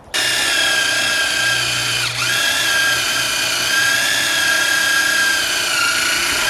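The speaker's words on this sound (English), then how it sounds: "They want to make them studs, so I got to drill out each one of those." A power drill runs continuously, drilling out studs during a joint replacement job, with a steady high whine that dips briefly around two seconds and then resumes, loud and close with no talking.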